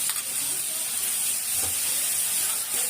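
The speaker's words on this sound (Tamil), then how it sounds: "இப்போ வதங்கின பிறகு நம்ம இந்த காடையை பீஸ் பீஸா கழுவுனத போட்டுக்கலாம்." Washed quail pieces dropped into a hot pan of sautéed onions give a loud, steady hiss and sizzle of frying throughout, with no clear voices over it.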